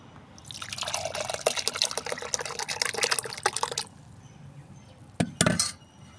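Red banana liquid fertilizer pours through a filter in a steady broadband trickle for about three seconds, then stops, followed by a few brief drips and clinks near the end.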